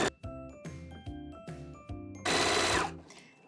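A sewing machine stitching a dress pocket seam runs in several short bursts of rapid, steady needle rhythm, with brief pauses between them, then ends in a louder, harsher stretch of stitching. No one speaks.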